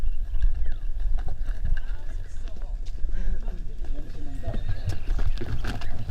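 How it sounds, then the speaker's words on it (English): Horses clip-clop at a walk over a dusty, slippery surface in the Philippines, with irregular hoof falls of moderate loudness mixed with rustling and low background noise. "The horses did a good job over the dusty, slippery surface"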